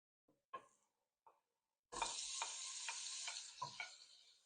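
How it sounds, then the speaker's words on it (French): A few soft kitchen clatters, then a steady loud sizzle as butter melts in a hot saucepan for béchamel, with scraping stirs through it. "Donc le beurre dans la casserole."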